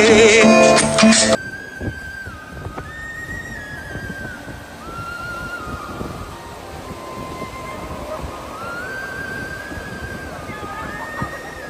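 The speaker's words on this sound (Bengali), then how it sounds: "উত্তাল বাতাসের মাঝে" Strong gusting wind roars across the microphone on the seashore at Saint Martin's Island, Bangladesh, with a loud burst at the start and steady buffeting throughout as people talk faintly.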